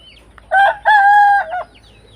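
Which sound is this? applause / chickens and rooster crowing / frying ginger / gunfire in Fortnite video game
chickens and rooster crowing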